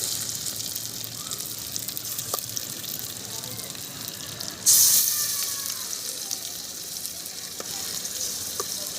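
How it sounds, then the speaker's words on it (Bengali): Marinated chicken leg pieces go into a hot pan one by one, setting off a sudden loud sizzle that swells midway and then settles into a steady frying hiss with occasional clinks. "এখন এর মধ্যে আগে থেকে ম্যারিনেট করে রাখা চিকেনগুলোকে একে একে ছেড়ে দিচ্ছি।"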